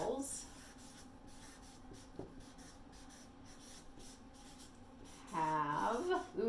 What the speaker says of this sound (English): So I think I'm going to write that sentence.